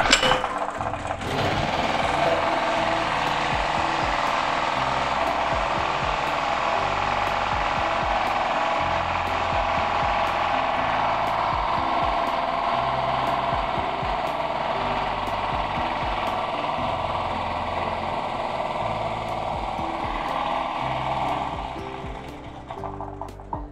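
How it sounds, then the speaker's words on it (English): Small portable generator engine running continuously nearby, a loud steady mechanical drone with rapid rattling clatter that keeps an even pitch before tapering off near the end, with no talking. "Okay, let me put on the generator."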